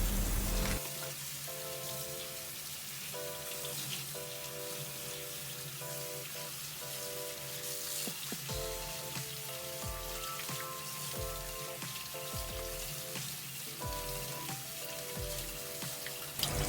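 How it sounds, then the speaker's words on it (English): Catfish rinsed under running tap water in a sink, a continuous spattering stream with irregular splashes and thumps as the fish are handled, close and fairly quiet with no speech. "After that, we're going to rinse them under running water."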